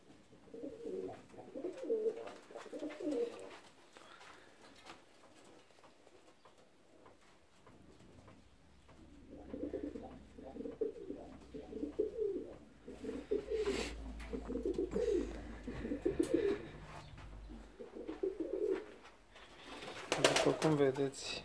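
Fancy ornamental pigeons cooing in an aviary, with soft, repeated rolling coos in bursts, clustered at the start and more steadily through the middle and end, under someone talking and some fluttering and shuffling.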